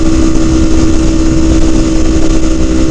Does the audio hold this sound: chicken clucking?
no